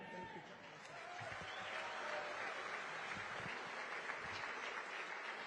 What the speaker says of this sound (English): I love it when the invocation gets applause